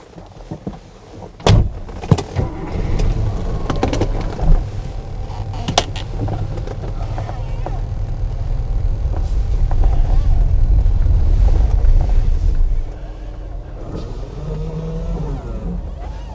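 A 1976 Mercedes 450 SEL 6.9 limousine with air suspension: a door thuds shut, then a few clicks, and the engine starts and pulls away. A deep, rising drone builds for about ten seconds, then eases into a quieter cruise.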